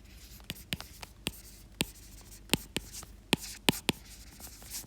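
Marker or chalk strokes on a board during a biology lecture make sharp, irregular taps and scratches, each short stroke standing out against a quiet room.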